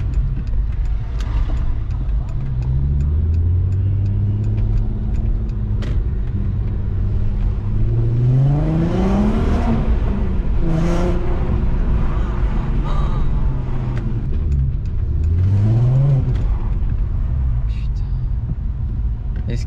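Volkswagen Golf 4 R32 driving through a narrow street, its engine rumbling steadily and rising in pitch through several gear pulls with a deep exhaust note, while someone talks over it.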